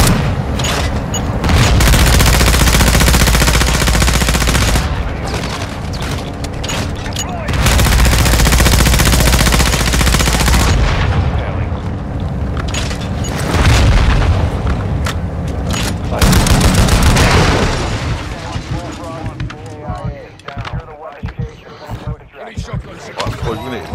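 Video game gunfire aimed at a car's windscreen, long loud bursts of rapid automatic shots with booming impacts, separated by short pauses, then scattered single shots, with players talking over it.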